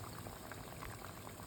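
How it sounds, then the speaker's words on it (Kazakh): Baursak dough fries in hot oil with a faint, steady bubbling sizzle that continues evenly throughout, with no voices. "Осындай қып-қызыл әдемі болып қуырып аламыз."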